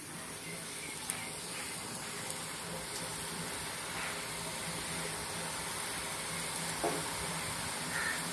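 Kati bhaja sticks frying in hot oil give a soft, continuous sizzle and hiss at low level, with a few faint clicks and kitchen handling noises.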